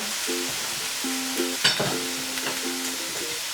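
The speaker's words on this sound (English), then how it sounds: "just let these kind of saute and cook down before we add our potatoes and then our sausage back in" Onions and peppers sauté in olive oil and butter in a skillet, a steady close sizzle with a faint tonal hum beneath and a couple of sharper clinks from a utensil partway through.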